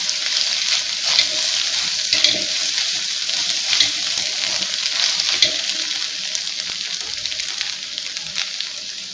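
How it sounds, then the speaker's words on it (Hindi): A spiced mixture with garam masala and black pepper being stirred as it fries in a pan, a constant close sizzle with scraping stirring strokes at irregular intervals, no talking. "इसमें थोड़ा सा जो है वो गरम मसाला शामिल कर देना और थोड़ी सी इसमें काली मिर्च शामिल कर देना और इसे अच्छी तरह से मिक्स कर देना"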